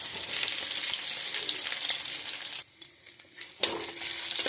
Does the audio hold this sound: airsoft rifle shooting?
no